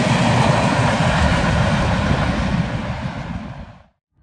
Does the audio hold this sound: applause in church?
no